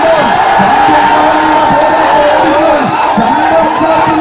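Sports fans in a stadium cheer and roar as a dense, loud, continuous wall of crowd noise, with shouts and whoops rising above it and scattered clapping mixed in throughout.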